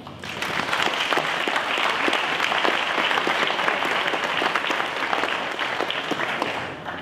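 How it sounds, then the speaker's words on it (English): Sustained, dense applause from the audience at a police volunteer luncheon, steady and fairly loud throughout, with many hands clapping at once and no speech over it. "give yourselves a round of applause"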